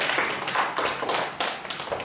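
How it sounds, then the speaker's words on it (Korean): An audience at a youth church worship service claps, dense overlapping hand claps filling the whole short stretch at a steady close level. "우리 고생한 영수쌤에도 박수 해주세요."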